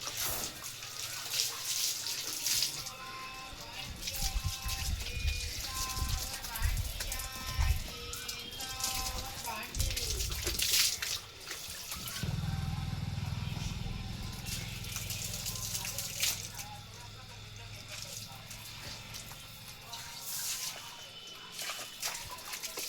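Water from a garden hose gushing and splashing during morning play with a German Shepherd dog, a continuous hiss and spatter that shifts partway through, with people talking and calling over it.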